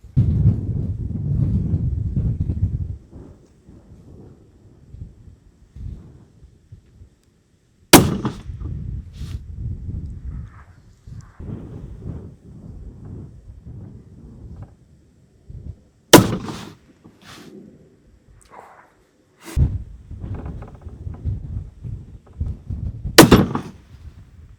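A Seekins PH3 rifle fires at a 10-inch steel plate 1,000 yards away, four sharp, loud cracks spread several seconds apart, each followed by a rolling echo across open ground.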